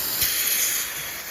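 An aerosol can sprays lubricant onto the main line running to a garage door opener motor, a steady close hiss that fades slightly toward the end.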